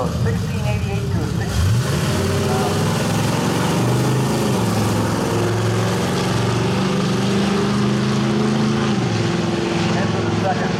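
A 1957 Harley Panhead motorcycle engine roars continuously and loudly at an antique nationals drag race burnout, with the rumble shifting pitch over a dense wash of crowd and track noise.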